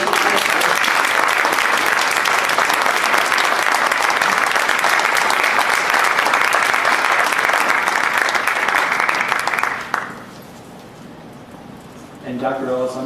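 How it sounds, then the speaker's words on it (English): A board meeting room fills with sustained applause from the audience, a dense, even roar of clapping that lasts about ten seconds before cutting off abruptly, followed by quieter room noise and a voice starting up. "Love if we could give a round of applause to Carter."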